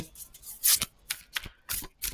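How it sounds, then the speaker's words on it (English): A Moonology oracle card deck being shuffled by hand, several quick papery riffles and slaps in uneven bursts, close and clear. "I'm done shuffling"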